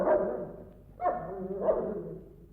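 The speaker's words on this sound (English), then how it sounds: "it's no good Mungo barking at me" A cartoon dog in a 1969 children's animation barks three times, each bark short and clear, spaced about half a second apart, close and fairly loud against a quiet background.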